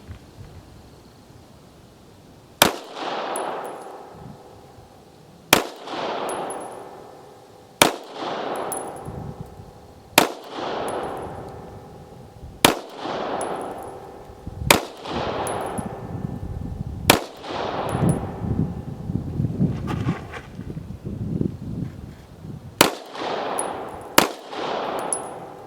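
Shots from a Canik full-size pistol at an outdoor shooting range, about ten loud, sharp reports spaced a couple of seconds apart, each followed by a ringing echo, with the shooter's handling noise in between.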